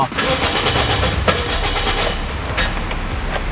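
A car engine starting again after refuelling from an empty tank. A loud, close, continuous engine rumble fills the moment, with a voice speaking over it.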